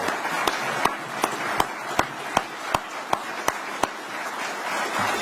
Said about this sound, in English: and just give them a round of applause.